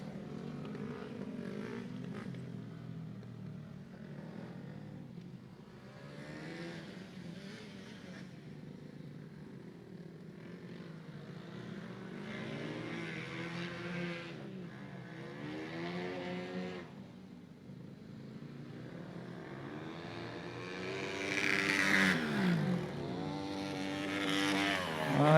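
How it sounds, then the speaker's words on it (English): Honda CRF motorcycle engines racing at an event, several bikes revving and shifting with rising and falling whines, distant at first and growing louder near the end, without talk. "Jordan Getz, we're talking about, the Lutz, Florida rider on board the Honda CRF"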